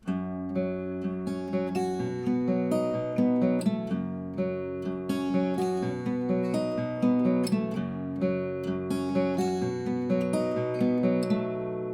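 Fingerstyle acoustic guitar picks out a steady repeating pattern of plucked notes and bass strings, clear and close with no voice.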